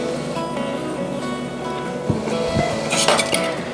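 Plain tongs stirring cinnamon sugar in a bowl, a few light metallic clinks and scrapes near the end over a quiet low hum, close and fairly soft, no speech.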